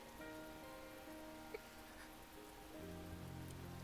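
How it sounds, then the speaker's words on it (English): Steady rain falling outside a dark little room in a visual novel game, a soft continuous patter at low level, joined near the end by a low sustained musical tone. "The sound of the rain outside our dark little room seems to grow louder."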